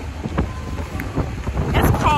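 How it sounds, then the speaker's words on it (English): Outdoor wind buffeting the microphone on a cold, windy day, a steady low rumbling roar with gusty surges throughout, mixed with faint background sounds and no clear speech. "It's windy."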